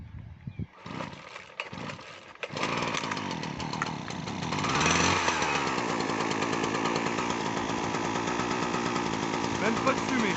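A McCulloch Superlite 4528 petrol hedge trimmer engine pulls over and catches, then runs loud and steady close by, its buzzing drone rising as it revs, with a few brief voices early on.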